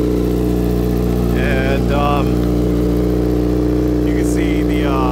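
A 2008 Yamaha R6S street tracker motorcycle idles close by through a loud Two Brothers exhaust, a steady, throbbing rumble that runs throughout while a person speaks briefly over it.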